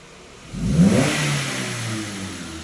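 A car engine revved hard during ECM load testing for fault diagnosis, jumping from idle into a loud, rising rev and then holding a steady, droning high speed.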